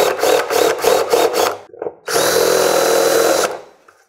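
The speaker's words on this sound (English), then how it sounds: "Because this is fiberglass, once that unibit bites," A unibit step drill bores through a fiberglass valance apron for a 1965–66 Shelby-style Mustang, with rapid whirring bursts and a sustained grinding cut, loud and close, no talking.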